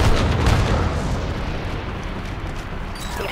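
In the Star Wars Battlefront II campaign, a barrage grenade erupts into a loud booming blast that rolls on in a string of rumbling explosions, slowly fading over a few seconds.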